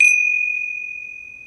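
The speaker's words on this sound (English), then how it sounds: "I'm going to open and close the puja with a gong" A single struck metal tone opens a puja ritual: a bright attack that rings on as one steady, clear pitch, slowly fading over more than a second, close and loud with no voices.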